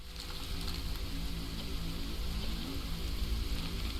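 Drizzle falling in the video game Against the Storm, a steady soft patter of rain that holds evenly throughout beneath a low rumbling game ambience.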